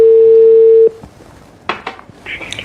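Steady telephone dial tone holds loud and unbroken for almost a second, then cuts off, leaving faint clicks and handset handling sounds at a low level.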